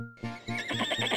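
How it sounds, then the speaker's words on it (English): Horse neigh from an animal sounds game for kids, a single loud, close whinny that rises and wavers for about a second, heard alone. "A horse goes."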